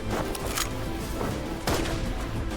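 A burst of video game gunfire with sharp, rapid cracks that blend into a rumbling roar, loud and close, fading toward the end.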